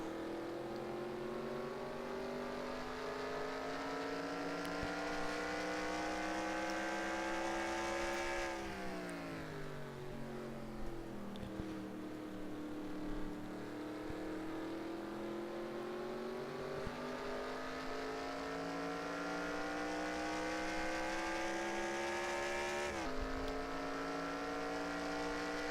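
Onboard engine of the number 37 race car on a lap of the Hungaroring in a Whelen Euro Series sim racing game. A steady, loud, close engine drone rises through the revs, with sharp drops at gear changes and repeated climbs.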